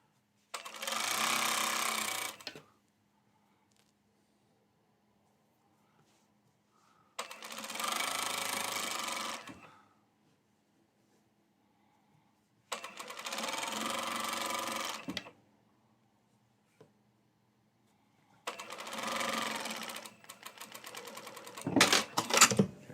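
A sewing machine runs a half-inch seam through thick fabric in four separate bursts of steady stitching, each a few seconds long, with quiet pauses between them.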